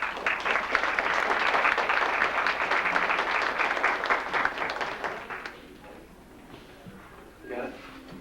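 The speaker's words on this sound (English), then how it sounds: "Let's hear another round of applause for Margaret McFadden" A crowd applauds warmly for a performer at a talent show, dense sustained clapping for about five seconds that fades out, followed by a voice talking.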